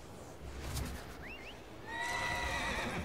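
A horse in a video game whinnies in a long, wavering neigh near the end, preceded by a brief squeaky call and soft hoof thuds, moderately close over low background noise.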